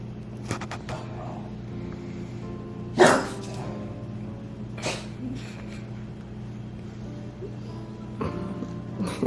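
A French Bulldog gives a few sharp barks at intervals over steady low background hum, the loudest near the middle and two more softer ones later, fairly distant and quiet overall.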